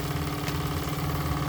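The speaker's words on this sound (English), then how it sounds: "talking about a miniature Dampf machine for a steam engine" A Lesco D16 miniature steam engine runs at a steady pace, giving a continuous close mechanical chugging and humming drone with no speech.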